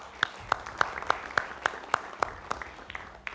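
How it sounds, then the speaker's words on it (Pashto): An audience at the Kabul premier cricket league player draft ceremony claps, giving a sparse, steady run of individual hand claps at a moderate distance. "ځان مو خپله تشویق کړئ، د ځان په ویړ یو چکچکې ووهئ"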